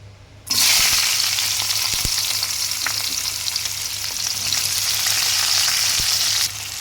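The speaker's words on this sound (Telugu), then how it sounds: "ఇప్పుడు ఈ ఆయిల్లో ఆనియన్స్ అనేది వేసేసుకుందాం." Onions frying in hot oil in a home kitchen, a loud steady sizzle that starts abruptly and holds for several seconds with occasional stirring clicks, no talking.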